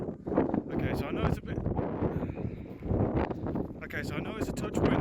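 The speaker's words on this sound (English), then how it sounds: "I know it's a touch windy, but hopefully it comes out somewhat" Low, gusty wind buffeting the microphone with a steady rumble, under a person speaking throughout.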